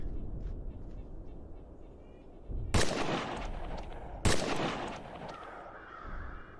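Two sharp pistol gunshots from a scoped handgun ring out at a shooting range in the VR game Contractors VR, loud and spaced about a second and a half apart, with a quieter ambient bed before and after.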